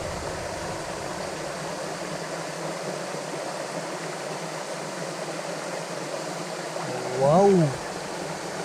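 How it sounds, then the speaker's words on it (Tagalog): Water gushing and bubbling up, a continuous rushing hiss that stays even throughout, with a man briefly exclaiming near the end over the flow. "Bumubulwak-bulwak na naman yung tubig oh."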